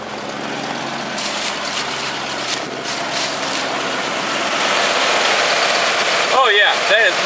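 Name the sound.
car engine idling smoother after brake booster check valve replacement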